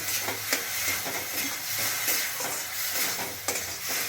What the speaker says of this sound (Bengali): দিয়ে মশলাটা আমি একটু ভেজে নেব।